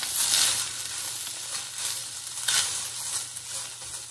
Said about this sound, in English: go ahead and add all that chicken that I shredded back into it. Give this a nice stir.